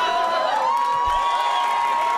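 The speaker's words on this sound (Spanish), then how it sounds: "Fuerte el aplauso para el señor Pierna Loca, damas y caballeros" A live comedy audience cheers and whoops for a comedian, a short loud burst of crowd noise with voices shouting over it.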